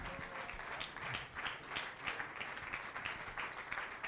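A church congregation applauding and cheering at a service: steady, dense clapping from a crowd with a rhythmic pulse, moderately distant, continuing throughout without a break.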